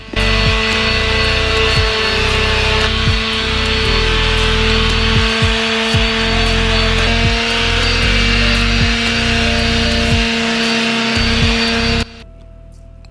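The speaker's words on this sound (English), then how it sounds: "And then we sand again, this time with about 180 grit" A 3D printed Iron Spider helmet is sanded with 180 grit sandpaper: loud, close, rhythmic scratching strokes over a steady motor hum, stopping abruptly near the end, with no speech.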